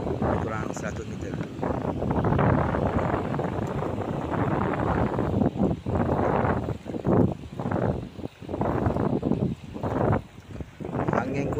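Strong outdoor wind buffets the microphone in heavy, rumbling gusts that rise and fall throughout, with someone talking over the roar.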